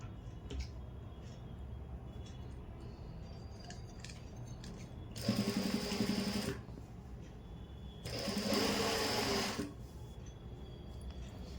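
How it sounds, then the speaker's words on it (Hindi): Sewing machine stitching along piping, two short bursts of close, fast mechanical whirring with a quiet room in between. "सिलाई हम बिल्कुल पाइपिंग के साथ साथ लगाएंगे"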